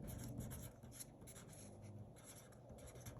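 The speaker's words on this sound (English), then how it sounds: "on the deposit ticket, we're going to write today's date." A pen scratching the date onto a paper bank deposit ticket, faint close strokes in short quick scribbles.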